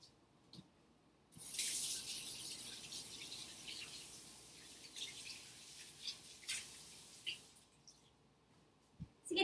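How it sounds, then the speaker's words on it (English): Tap water runs steadily into a sink during hand washing in a home kitchen, a close hiss that starts after a quiet moment and carries on with small splashes and clatters to the end. "I'm going to wash my hands."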